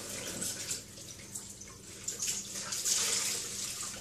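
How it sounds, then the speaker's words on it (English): Hot water runs steadily from a sink tap onto a rag used to soften pine needles for basket making. It is a continuous, fairly close hiss and splash with faint drips and no talking. "I'm putting some hot water on it"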